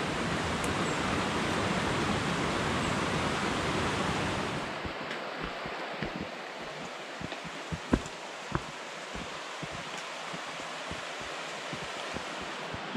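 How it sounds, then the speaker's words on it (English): The Forces, a series of river cascades beside a walking path on the Coast to Coast route, roar with loud, rushing water for about four seconds. The sound then drops to a softer, nearer trickle with scattered small splashes. "We've arrived at the Forces, which are a series of cascades"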